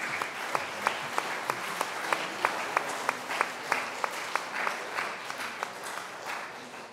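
Applause from a crowd at a church Mass, steady clapping with sharp individual claps standing out, moderately loud and sustained with no talking.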